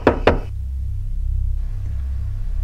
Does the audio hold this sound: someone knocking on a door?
yes